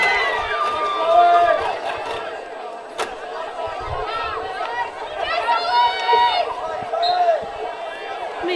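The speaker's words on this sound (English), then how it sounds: "I can't even hear my own thoughts with the noise of this crowd" A crowd roars and cheers at a girls' hockey grand final in Christchurch, with rising shouts and whistles surging in waves, loud and close around ongoing commentary.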